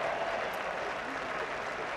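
A large crowd at a 1995 Test cricket match between England and West Indies at Old Trafford claps steadily in the distance, a soft, even patter of applause with a faint murmur underneath.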